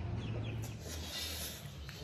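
Chickens clucking in a yard in Kathmandu, a few soft, faint clucks over a low, steady background hum with no talking.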